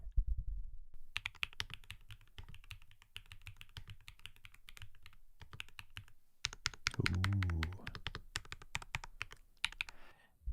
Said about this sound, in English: I'll do a little type test for you.